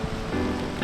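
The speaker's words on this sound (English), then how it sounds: "so it's raining now, but it's fine because we got a raincoat or rain roof with us" Steady rain pattering on a tent's rain fly at a riverside campsite, a dense continuous hiss with no voices.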